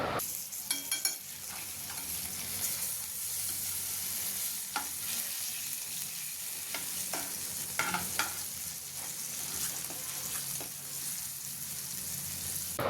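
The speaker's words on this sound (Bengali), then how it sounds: "এভাবে আমি 3 পিস করে দুটো কড়াইয়ে আমি এভাবে ফ্রাই করেছি।" Constant sizzling and crackling of chicken pieces frying in a pan, with occasional scrapes and clinks of a utensil stirring, no voices.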